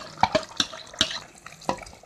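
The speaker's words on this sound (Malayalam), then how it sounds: "ഇതിലേക്ക് ആവശ്യത്തിന് വെള്ളം ഒഴിച്ച് കൊടുക്കാം." Water poured into a hot pan of mutton kurma cooking with fried onion, cashew and yogurt mix, giving several short splashing bursts at close range with no talking.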